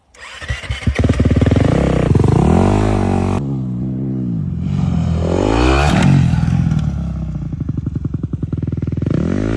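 Dirt bike engine in the desert, close and loud, starting up and then revving repeatedly, its pitch rising and falling in surges before settling into a rough, rapid idle.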